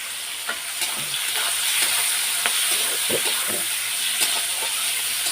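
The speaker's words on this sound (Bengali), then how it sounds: "আর দিলাম হচ্ছে কালো জিরে। তাই যে কাঁচা লঙ্কা আর পেঁয়াজটা দিয়ে দেবো। এখন ভাজা ভাজা করে নেবো লাল লাল করে।" Onion and green chili fry in oil with nigella seeds, producing a loud, steady sizzling hiss broken by occasional light scrapes of a stirring spoon against the pan.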